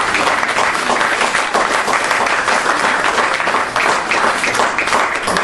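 Loud, sustained audience applause fills a Front National political meeting, a thick wash of many hands clapping together that holds steady without a break.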